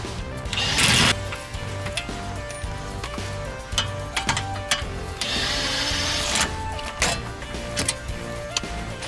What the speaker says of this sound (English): Two lower shock absorber bolts are 15mm bolts. So what we're going to do, we're just going to go underneath and go ahead and remove them.